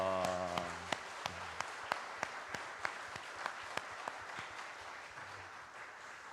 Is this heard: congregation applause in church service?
yes